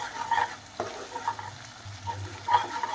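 Egg curry masala fries in oil as a spoon stirs and scrapes the pan, soft sizzling punctuated by irregular close stirring clatters.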